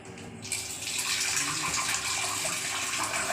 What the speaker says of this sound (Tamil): தண்ணி கலந்து ஊற்றிக்கலாம்.